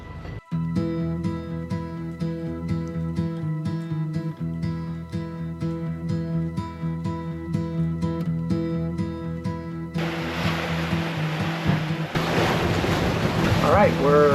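A catamaran runs downwind with a reef in each sail in 22 knots of wind between Saint Lucia and Martinique. A steady tonal hum sits under rushing wind and water, which swells into a loud roar near the end.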